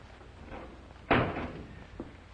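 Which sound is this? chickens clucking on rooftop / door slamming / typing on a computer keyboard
door slamming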